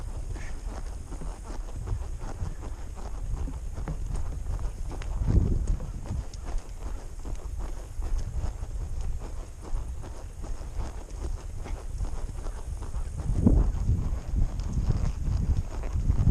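Hoofbeats of a horse cantering during an outdoor riding lesson thud along steadily under heavy wind rumble, with a couple of louder, closer passes.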